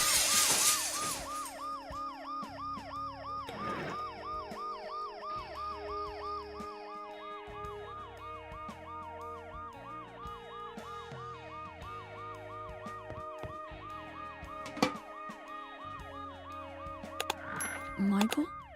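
An ambulance siren wails in the video game Dead Synchronicity, a steady rising and falling two-tone cycle held for many seconds, with other game sounds and brief sharp clicks near the end.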